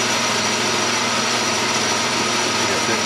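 A 7-inch Delta Rockwell metal shaper runs close and loud with a steady mechanical drone and a faint repeating rhythm as it takes a cut in metal during a pawl pin repair.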